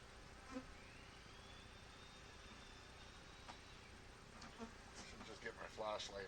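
Honey bees buzzing around an open hive of package bees during an inspection, a faint continuous drone with occasional nearer passes and light handling noises toward the end.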